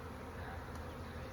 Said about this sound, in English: We're ready for more bees to come in and out as they please.